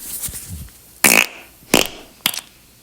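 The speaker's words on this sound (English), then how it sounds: "Fart number 7." Listener-submitted fart recording played on a comedy podcast: three separate short, loud, raspy bursts spaced about a second apart, with no talking over them.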